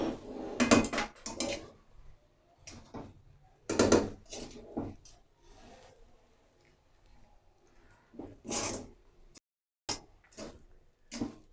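A spoon clanks and scrapes in a pan as almonds, coconut, melon seeds, raisins and pistachios are stirred into semolina halwa, in scattered bursts with pauses and no talking.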